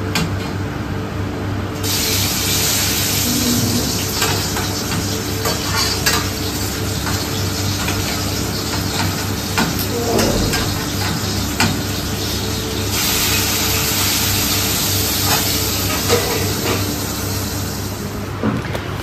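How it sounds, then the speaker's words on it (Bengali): Fish coated in salt and turmeric frying in a wok, a loud continuous sizzle and spatter close by, with occasional stirring clatter throughout. "এবারে মাছ ভাজা হবে।"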